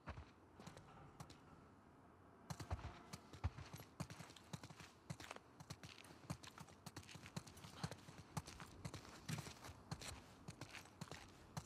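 Horse hooves clip-clopping in The Last of Us Part II video game, a steady, uneven patter of footfalls from several animals walking, moderately close, with faint creaks and no talk.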